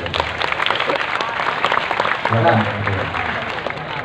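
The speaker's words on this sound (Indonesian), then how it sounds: "Tepuk tangan sama teman-teman untuk masuk." Audience applause at a religious talk gathering, a broad wash of clapping from a crowd, steady and fairly loud, with voices mixed in underneath.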